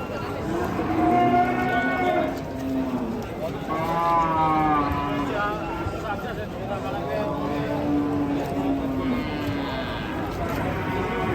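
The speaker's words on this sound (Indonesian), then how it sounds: "Penurunan sapi monster hitam" Large black cattle are unloaded from a truck, bellowing with loud, drawn-out moos that come one after another, close by, with clattering and handling noise in between.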